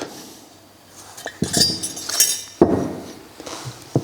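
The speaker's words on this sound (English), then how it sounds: "Next, you install the circlip." A steel circlip being fitted onto a KTM WP Xplor motorcycle fork during oil seal service gives a few sharp metallic clinks and taps, close up, with brief scraping between them and no talking.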